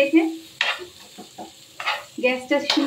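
Spiced potatoes with asafoetida and ginger stirred in a pan over a low gas flame: soft scraping strokes and light sizzling in short bursts, close by, with faint speech between strokes.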